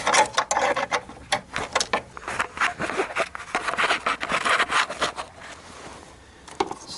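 A stubborn battery tray bolt on a Ford Explorer is worked loose with a wrench, giving close, irregular ratcheting clicks and scraping metal knocks in uneven bursts.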